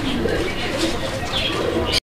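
Fancy pigeons on a farm coo steadily and close up, a dense, continuous murmuring that ends in a sudden cutoff, with someone speaking over it.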